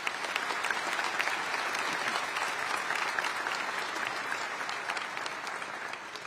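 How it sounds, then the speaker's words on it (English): A crowd at a high school graduation ceremony applauds steadily, dense clapping holding at a strong level throughout before beginning to taper slightly at the end. "Let's give them a round of applause, please."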